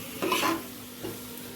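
Spicy-sour corn being stir-fried in a pan: two short bursts of scraping and sizzling, a stronger one followed by a softer one, close and fairly quiet, with no talking.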